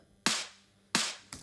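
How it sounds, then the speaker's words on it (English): Two crisp, crunchy snare hits with a clap-like snap and short decay, spaced apart, followed by a quieter third hit cut short. "Kind of more of a crunchy, kind of clappy sounding snare."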